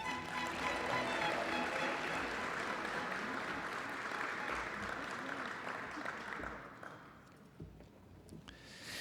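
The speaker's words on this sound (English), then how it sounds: "give the graduates another well-deserved round of applause" Applause for graduates at a college commencement ceremony, a wide steady wash of clapping from a large audience that thins and fades toward the end, with a voice briefly audible beneath.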